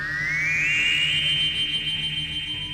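Odd electronic TARDIS door-opening effect from the Doctor Who pilot, a warbling tone that sweeps upward and then settles into a sustained, echoing whine, loud and alone.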